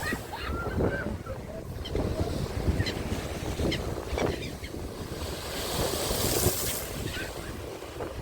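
Sea waves wash steadily against the shore at Odesa on a December day, a continuous rushing surf mixed with gusty wind buffeting the microphone, with no voices.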